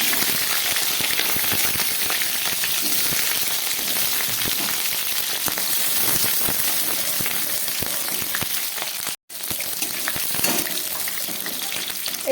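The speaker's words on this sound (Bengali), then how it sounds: "এই তেলের মধ্যে আমি কয়েক টুকরো পটল ভেজে নেব।" Pieces of pointed gourd fry in hot oil in a heated wok, giving a steady, dense sizzle and crackle that runs close and unbroken for the whole stretch, apart from one brief dropout near the end, with no talk.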